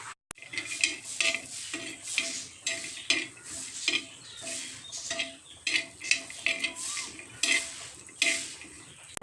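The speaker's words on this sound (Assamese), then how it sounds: "এয়া মই বাদাম আৰু কাজুখিনি ইয়াত ফ্ৰাই কৰি লম।" Almonds and cashews frying in ghee on a tawa, with repeated scraping and stirring strokes of a utensil against the pan over a soft sizzle, close and fairly loud, no voices.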